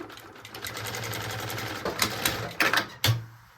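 A sewing machine runs steadily as it stitches a pocket onto a maternity bag, a continuous close whirr ending in a few sharper mechanical clunks and taps as it stops.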